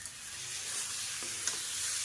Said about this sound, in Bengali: মশলার সাথে আলুটাকে খুব ভালোভাবে একটু কষিয়ে নেব।